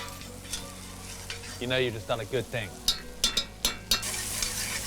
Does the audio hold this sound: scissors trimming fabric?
no